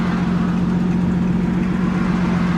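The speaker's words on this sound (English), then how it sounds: "Hey, David, the reason why I pulled you over is for your loud exhaust" A car with a modified, loud aftermarket exhaust idles close by during a traffic stop, giving a steady, deep rumble with a strong low hum and no talking.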